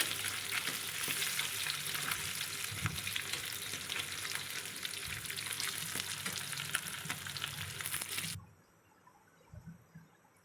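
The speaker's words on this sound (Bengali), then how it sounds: "মাছটা একটু কড়া করে ভেজে নিতে হবে" Katla fish frying hard in a pan, a dense steady sizzle with occasional stirring scrapes, close and loud for about eight seconds before cutting to a much quieter background.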